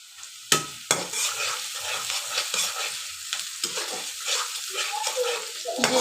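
Pasta ingredients frying in a pan, a close sizzle under busy stirring with sharp scrapes and clinks of a spatula against the metal, no one speaking.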